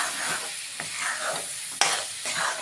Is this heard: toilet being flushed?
no